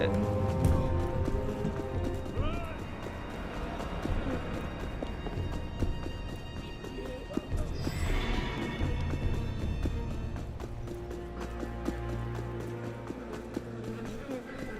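Horse hooves clatter in a rapid galloping rhythm within the Assassin's Creed Unity video game, mixed with game effects and a voice talking over the top.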